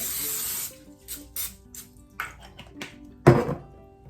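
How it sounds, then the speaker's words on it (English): A hissing burst of cooking spray onto plastic wrap up front, followed by scattered light taps and handling noises, with a sharper thunk near the end. "Let's give it a spray."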